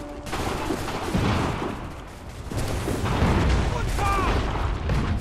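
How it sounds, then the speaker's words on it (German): Gunfire in Assassin's Creed III, dense rattling volleys of musket-like shots sustained across the moment, mixed with game ambience and a voice speaking over the action. "Die schießen!"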